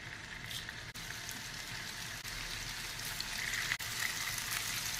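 Chicken seekh kebabs fry quietly in hot oil in a pan over a medium flame, a faint, continuous crackling sizzle like light rain, broken by a couple of brief dips.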